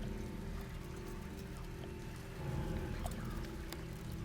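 Steady rain falls in the Silent Hill 2 Remaster video game, a dense continuous hiss of drops on surfaces with a low rumbling bed, swelling slightly louder near the middle and holding alone without speech.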